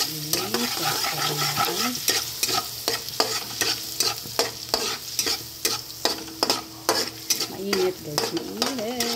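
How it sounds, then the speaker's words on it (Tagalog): Garlic sizzles steadily in a hot frying pan while a utensil stirs it with repeated scraping clicks, fairly loud and close; a voice speaks briefly. "nilalagay na natin ang garlic or bawang"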